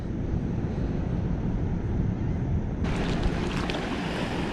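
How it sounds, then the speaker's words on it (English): Waves from a passing cargo ship's wake wash onto the riverbank at a catfishing spot, a loud continuous rush of surf mixed with wind noise on the microphone. "As it was coming through, it sucked a bit of the water out of here. Its wake is on its way."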